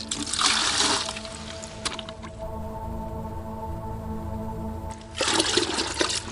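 Water is scooped up for mixing fishing groundbait beside a river, giving a close gurgling, splashing rush at the start and again near the end, with a quieter trickling lull in between.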